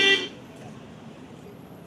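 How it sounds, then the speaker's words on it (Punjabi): A brief, loud vehicle horn blast sounds at the start in street traffic, then a steady rumble of passing vehicles and road noise carries on beneath it. "ਹਾਰਨ ਤੇ ਹਾਰਨ ਮਾਰੀ ਜਾਂਦੇ ਆ"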